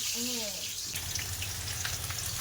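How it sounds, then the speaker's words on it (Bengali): Potatoes fry in hot, heavily spattering oil at a village cooking spot, a loud dense sizzle with crackling pops up close, a brief voice-like sound at the start. "আগে আলুটা ভেজে নিই তেল ভীষণ চিটকাচ্ছে"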